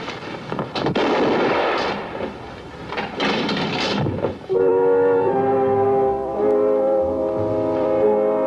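Gunfire in a TV western crime drama comes as a close, loud burst of rough, crackling shots over about four seconds. A sustained tonal, droning sound follows, with no talk.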